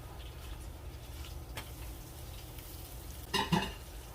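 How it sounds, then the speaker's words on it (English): A corn tortilla fries in a little oil in a pan, giving a soft, steady sizzle close by, with a brief scraping clatter near the end. "Cook your corn tortilla."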